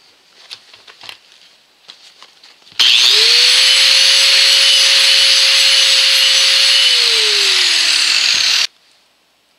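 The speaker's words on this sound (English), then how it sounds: "Therefore, the wire wheel. Knock that right off, shine her up real pretty." A wire wheel on a power tool scours welding residue off a homemade steel froe, a loud, steady whining grind lasting about six seconds that spins down at the end after some faint handling noises.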